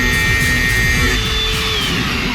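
An angle grinder with its guard fitted cuts through metal for a Harley FXDX exhaust heat shield, a loud, steady whine running continuously and close throughout.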